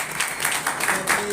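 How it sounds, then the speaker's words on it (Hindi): An audience at a live event applauds with a steady burst of clapping from many hands, continuous and fairly close, with no one speaking. "सुमन सर के लिए बहुत जोरदार ताली हो जाए"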